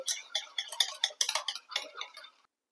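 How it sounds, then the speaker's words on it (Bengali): A whisk or spoon beating yogurt smooth in a bowl for lassi, a quick run of light clinking, tapping strokes in an uneven rhythm, close and alone, stopping near the end. "এবার দইটা কিন্তু ভালো করে 7-8 মিনিট ধরে ফেটিয়ে একদম স্মুথ করে নিতে হবে।"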